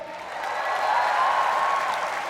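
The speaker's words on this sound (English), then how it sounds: "a huge round of applause to everyone" An audience at a comedy roast breaks into applause, which swells steadily over about two seconds and stays loud and continuous, with no distinct voices.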